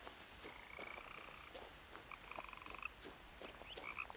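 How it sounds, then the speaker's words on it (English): A dense chorus of frogs croaks continuously in the video game What Remains of Edith Finch, set in Washington, with rapid trilling calls layered over a soft ambient hiss, faint and steady with no voices. "I hear a lot of frogs, but I don't see any frogs."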